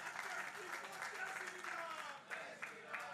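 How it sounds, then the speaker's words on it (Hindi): An audience at a Delhi bridge inauguration applauds Harsh Malhotra, a faint, steady spread of clapping heard beneath voices and crowd chatter. "एक बार जोरदार तालियों से अभिनंदन करें भाई"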